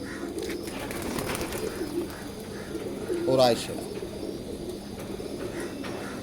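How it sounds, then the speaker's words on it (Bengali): A pet pigeon, one of the two best birds kept at home, gives a short rolling coo partway through, set against steady background noise while a person talks nearby. "এইটা হইলো আমার আরেকটা কবুতর"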